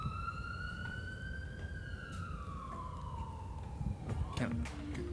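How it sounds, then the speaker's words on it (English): A police car siren wails in long, slow rising and falling tones, with a low rumble of background noise underneath. "It was the sirens on the police car."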